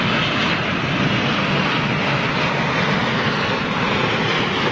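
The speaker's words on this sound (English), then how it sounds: "Yeah, that was a Dreamliner. Here's another Dreamliner for you." A Boeing 787 Dreamliner jet flies overhead, its steady, broad engine roar loud and continuous throughout with no voices.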